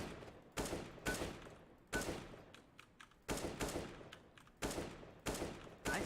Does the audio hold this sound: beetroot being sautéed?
no